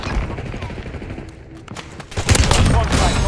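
Gunfire in a shooter video game, a run of rapid shots building into a loud, dense burst of automatic fire near the end, with game sounds underneath.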